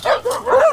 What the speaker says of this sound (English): A dog attack caught on camera by Logan County.